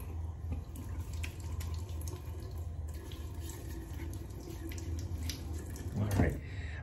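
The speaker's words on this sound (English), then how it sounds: "Go ahead and get wet real quick." Tap water runs steadily into a bathroom sink while a man wets his face before a wet shave, with light splashing and a soft surge near the end; no speech is heard.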